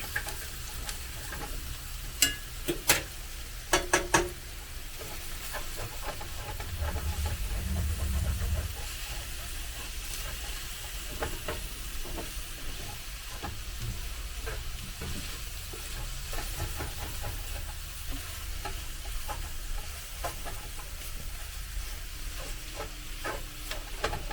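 Butter and olive oil sizzle in a pan for a stir fry with a steady, moderately loud frying hiss, joined by scattered clinks and scraping from stirring. No one speaks.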